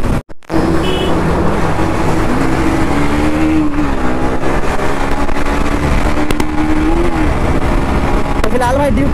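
Three motorcycles, a Pulsar NS200, an RS200 and a KTM Duke 250, ride together on a rough road, giving a loud, steady engine drone with slight pitch swells throughout, mixed with wind noise.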